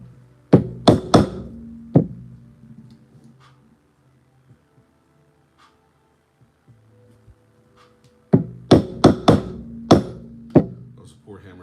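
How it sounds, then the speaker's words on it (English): A hammer strikes leather tooling for a weave pattern in two clusters of sharp, close knocks, several quick hits each, separated by a long quiet stretch. "That was a poor hammer strike initially,"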